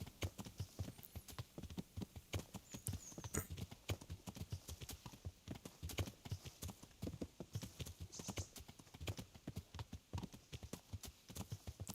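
Horse hooves in the medieval video game Kingdom Come: Deliverance, a rapid, steady clip-clop of a ridden horse at speed, dense repeating hoofbeats heard throughout at a fairly soft level.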